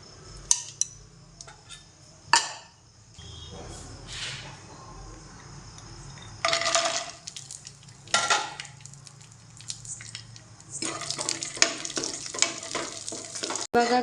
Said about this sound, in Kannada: ಇವಾಗ ಇದನ್ನೇ ತಿಕ್ಕೊಂಡು ಕಾಜು ಎಲ್ಲ ಫ್ರೈ ಮಾಡ್ಕೋತೀನಿ.